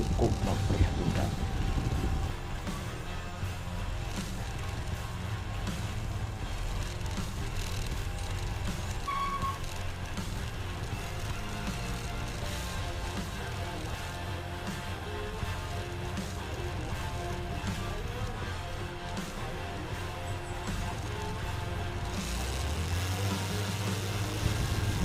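Motorcycle riding along a rough, damaged village road, a steady mid-to-low engine hum running continuously with small bumps and rattles, fairly close and without talk.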